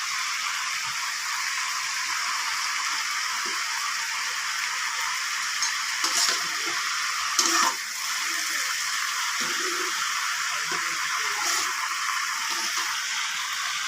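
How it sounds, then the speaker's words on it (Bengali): Ramen noodles sizzle and crackle steadily in a frying pan as they are stirred, with occasional clinks of a utensil against the pan and a brief louder scrape near the middle. "এটা এখন নাড়াচাড়া দিয়ে বন্ধুরা খুব ভালোভাবে ভেজে নেব।"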